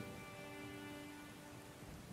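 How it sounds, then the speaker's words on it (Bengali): Rain falling steadily outdoors, a soft continuous hiss of drops with a faint low hum beneath, quiet and unbroken. "বাইরে বৃষ্টি পড়তে লাগলো,"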